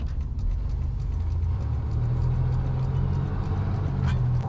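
Steady low road rumble and tyre drone from a car cruising on a highway, heard from inside the cabin, constant and moderately loud throughout with no talk.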